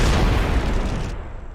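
A gunshot fired outdoors in a weedy area at a raccoon, a single loud, booming blast that fills the clip and fades away with no talking.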